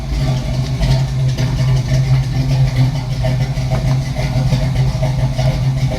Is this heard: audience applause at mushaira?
no